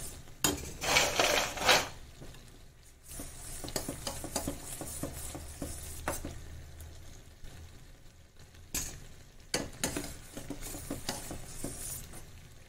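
Fried namak paare are tossed and mixed in a pan, with a burst of rattling and crisp clinking near the start followed by steady spoon scrapes and light sizzling, up close and without talk.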